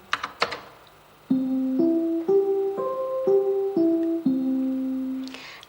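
A short sequence of synthesized tones from a 1986 computer plays back programmed notes one after another, each clear and sustained, rising and then falling, after a few sharp clicks.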